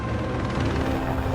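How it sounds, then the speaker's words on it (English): Helicopter flying near a mountain base camp on a film location, a loud, steady rotor thump with heavy low rumble, close and continuous for just over a second. "There's just helicopters everywhere, and they're flying in and out all day"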